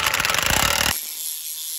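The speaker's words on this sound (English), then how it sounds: "Now we gotta tighten this up." A ratchet rapidly clicks for under a second while a bolt is tightened on the upper control arm and steering knuckle of a 2015 Ram 1500, then cuts to quieter hiss.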